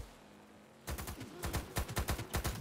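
Rapid automatic gunfire in Cyberpunk 2077 breaks a quiet pause with a dense burst of loud, punchy shots, continuing in tight repeated volleys.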